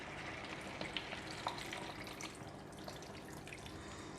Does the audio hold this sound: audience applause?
no